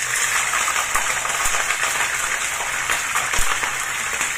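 Short green beans dropped into hot cooking oil for Chinese garlic green beans, giving a continuous close sizzle and crackle with steady spitting that holds evenly throughout.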